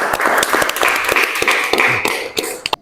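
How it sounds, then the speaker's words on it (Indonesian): A classroom group breaks into brisk, fairly loud clapping for their classmates. The claps are dense and uneven, then thin out into a few last scattered claps before stopping. "Tepuk tangan untuk teman-teman."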